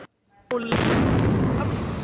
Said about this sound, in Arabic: هنا انفجار يا رب في المطار، دوي انفجار دوي انفجار